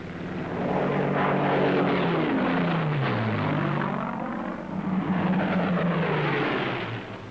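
Loud, steady droning of piston engines from a group of P-51 Mustang escort fighters over Germany, swelling and shifting in pitch as the aircraft pass, with no voices.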